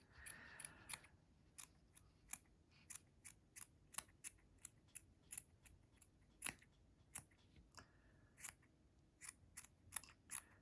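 Scissors trimming loose yarn ends on a crocheted hooded sweater: a long series of crisp, close snips at an uneven pace, some clustered and others spaced out, with no voices.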